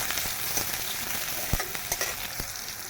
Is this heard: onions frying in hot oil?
yes